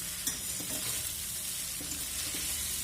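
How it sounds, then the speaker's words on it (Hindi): Aloo poha is gently stirred and tossed with a spatula in a pan, giving a soft, steady frying hiss with faint scraping strokes, close up and without speech. "स्पैचुला से अपना हिलाते हुए इसको हल्के हाथ से मिक्स करेंगे।"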